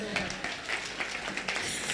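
Audience applause at a youth networking summit, a steady wash of clapping from a crowd lasting the whole moment, moderately loud with some voices mixed in.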